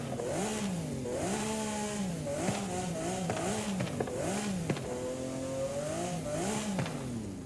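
A Lamborghini engine in Forza Horizon 5 is revved repeatedly while standing: about seven or eight quick throttle blips climb and fall in pitch over a steady idle. The sound is loud and close, with no talking.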